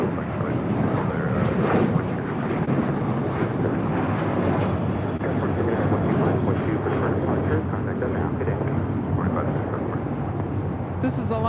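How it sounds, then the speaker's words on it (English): An Alaska Airlines Boeing 737-900 departs LAX with a continuous broad jet roar, fairly close and even in level across the clip, while a person talks over the engine noise. "This is Alaska Airlines 736 taking off to Las Vegas on a 737-900."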